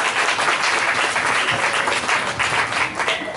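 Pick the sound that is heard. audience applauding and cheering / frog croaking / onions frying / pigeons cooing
audience applauding and cheering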